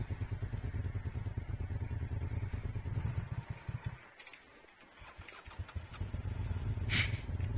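A vehicle engine idles in the Arma 3 video game, a steady low rumble that fades out briefly midway, as if shut off, then returns and keeps running.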